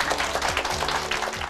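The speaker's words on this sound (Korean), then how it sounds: "주님께 박수." An audience at a Korean English-grammar lecture bursts into dense, continuous applause, a busy patter of many hands that holds steady and fairly loud throughout.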